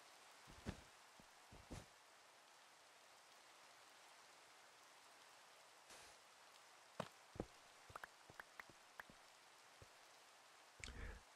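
Rain falling in the video game The Citadel, mostly faint and soft, broken by scattered louder drips and clicks that come in irregular clusters near the middle and end.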